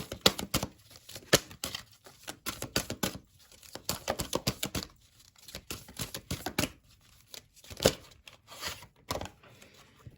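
Tarot cards shuffled and drawn for a Pisces reading, giving dry papery riffles, slaps and crinkly snaps in quick irregular bursts with short pauses, close and fairly quiet, with no talking.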